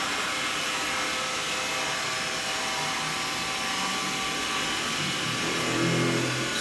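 A Xiaomi Mi robot vacuum cleaner runs with a steady, loud motor whir and broadband airflow rush. The sound holds level throughout, with a slight low rumble rising near the end.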